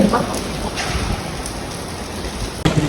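Steady rain falls outside the Parqal Mall in Parañaque, a dense, even hiss of drops on hard surfaces that continues unbroken with a brief dip near the end.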